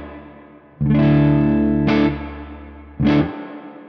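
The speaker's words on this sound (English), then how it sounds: "you can really hear those plate sort of artifacts they've built into that algorithm" An electric guitar runs through the plate reverb of a Flamma FX20 pedal, three loud distorted strummed chords ringing out with a shimmering reverberant tail, close and alone.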